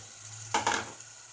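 Chicken pieces tipped into a hot pan for dhaba-style chicken curry, giving a sudden loud burst of sizzling and clattering that lasts about a third of a second and then settles back over a low steady hum.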